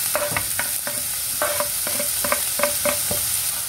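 Onion and chili fry in a pan with a steady close sizzle, punctuated by rhythmic scraping stir strokes about every third of a second, and no talking.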